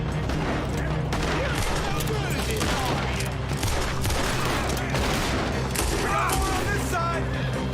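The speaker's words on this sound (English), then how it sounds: "How many times do I have to shoot that guy?" Rapid gunfire and booming shots in the Western video game Red Dead Redemption 2, dense bursts of shooting throughout with voices talking over the fight.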